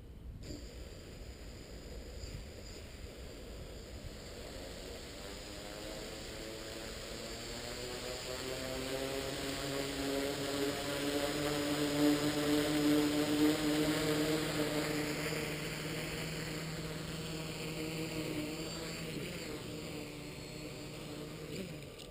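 Radio-controlled tricopter with its motors running: a steady electric whine with rising and falling pitch that swells toward the middle as it flies, heard alone at moderate distance.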